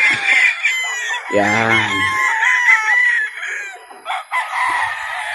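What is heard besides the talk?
gamefowl roosters crowing at a game farm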